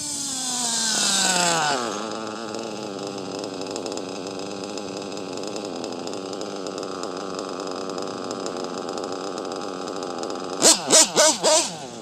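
A Novarosi Elite 5 nitro engine runs at a steady high-pitched buzzing idle after a rising start, continuous and close, with a few sharp bursts near the end.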